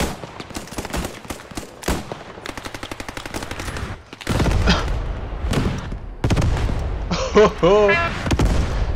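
Battle in the video game Post Scriptum with artillery fire and rapid gunfire: loud volleys rattle and boom in dense bursts while a man briefly exclaims over the din.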